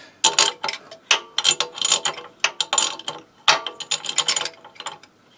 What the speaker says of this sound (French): avec la clé à bougie